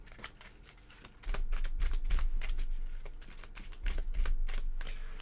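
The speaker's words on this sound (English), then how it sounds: "We'll give these a good shuffle." A deck of game cards for the Iron Helm dungeon game is riffled and shuffled by hand, giving bursts of rapid crisp flutters and snapping clicks, close and fairly loud, with a short quieter gap between shuffles.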